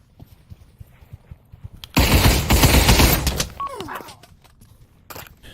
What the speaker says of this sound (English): As I just mag dump in a panic.